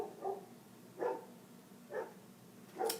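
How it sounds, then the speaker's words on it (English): Dogs at home bark at the neighbor dogs, four short muffled barks spaced about a second apart, somewhat distant and faint, with no talking. "Barking at the neighbor dogs."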